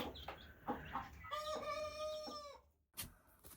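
A mother hen clucks close by beside her chicks, giving loud, repeated calls with one long drawn-out squawk, a short gap, then more clucking.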